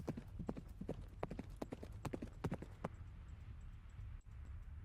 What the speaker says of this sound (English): Is that a horse? I'm assuming that's what I'm hearing in the distance, Sean.